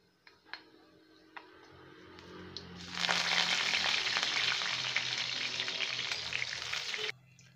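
Fenugreek, dried red chillies and curry leaves hit hot oil with a few pops and ticks, then a loud, steady sizzle erupts and holds close up for several seconds before cutting off abruptly.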